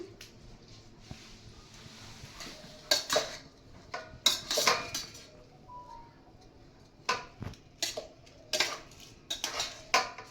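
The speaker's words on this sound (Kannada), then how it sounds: "ಚಿತ್ರಾನ್ನ ಮಿಕ್ಸ್ ಮಾಡ್ತಾ ಇದ್ದೀನಿ" A spoon scrapes and knocks against a metal vessel while lemon-ginger chitranna rice is mixed, giving irregular clinks and clatters in bursts with quiet gaps between, close and clear.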